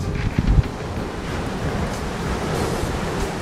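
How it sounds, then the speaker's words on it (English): Steady rush of sea surf on Shakespeare Beach with gusting wind buffeting the microphone, a few low thumps early on, no voices. "I sat quite far away from the sea because it is a bit noisy, and it's a little bit windy."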